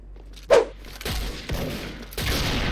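A handful of sharp SV98 sniper rifle shots in a video game crack out at uneven intervals, each followed by a short rumbling tail, amid game background noise.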